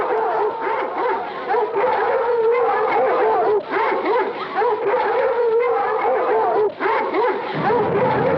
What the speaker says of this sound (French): Lâchez toute la meute!